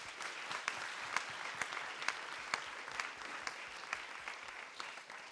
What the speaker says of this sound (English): Okay, I think we can give them all a round of applause.